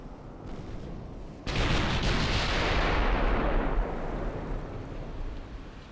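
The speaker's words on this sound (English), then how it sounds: "I have also sent my own torpedoes at him." In the naval battle game Ultimate Admiral: Dreadnoughts, a quiet rumble gives way to a sudden heavy blast as a torpedo hits or guns fire. A long roaring decay follows, loud and close.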